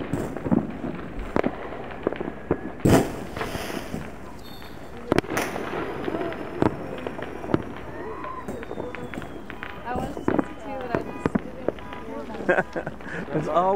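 Fireworks at a July 4 display in Lompoc, California, booming in scattered loud bursts with rolling echoes off a nearby ridge, mixed with crackles and whistles while people talk in the background.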